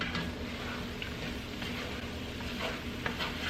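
Short ribs with flour cook in a heavy cast iron pot, a soft steady sizzle with faint ticks and pops, low and continuous without talk.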